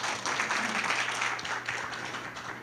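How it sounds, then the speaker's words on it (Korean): Audience applause welcoming a lecturer at a regional party political academy lecture in Gyeongnam, Korea: a steady, dense wash of many hands clapping that fills the hall, with a faint constant hum underneath and no talking. "여러분 큰 박수로 환영해 주시기 바랍니다."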